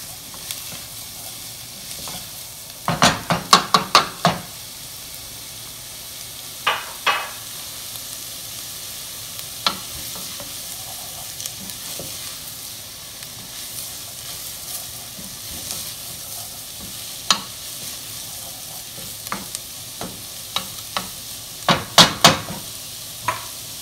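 Fennel fries in a pan for a turkey ragu, with a steady low sizzle under bursts of sharp spoon-on-pan scraping and clacking as it is stirred at irregular intervals.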